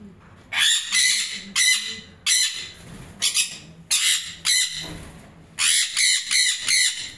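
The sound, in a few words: sun conure parrots squawking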